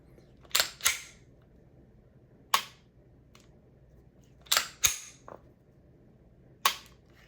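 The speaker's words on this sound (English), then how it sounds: "here's the trigger pull of the SIG P365 XL" Dry trigger pulls on a SIG P365 XL pistol, a handful of sharp metallic clicks in close pairs and singles spaced across a quiet background, crisp and near.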